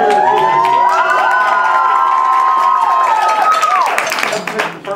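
A high school quiz show crowd cheers and shouts loudly, with children's voices whooping over steady applause that begins to fade near the end.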